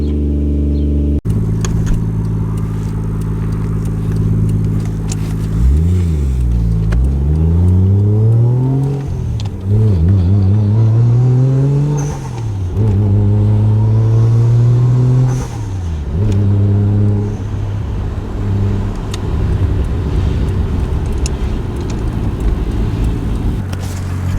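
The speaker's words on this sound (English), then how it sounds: "we're gonna drive a leaky Supra to the auto parts store" Toyota Supra MK3 with a 1JZ engine and an oil leak driving on the street, idling then revving in several rising and falling pulls, a deep close rumble heard from the cabin without talking.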